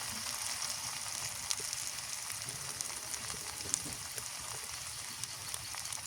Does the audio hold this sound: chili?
yes